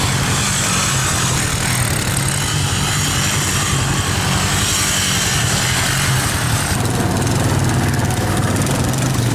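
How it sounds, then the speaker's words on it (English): A diesel-sounding engine runs steadily on a snowy outing, a loud, unbroken rumble with a rough mechanical buzz that holds throughout, no voices over it. "It kind of sounds like a diesel."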